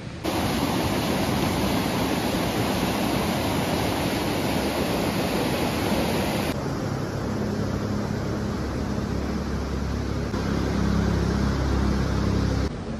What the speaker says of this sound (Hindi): वो गंगा जी की आवाज़ थी।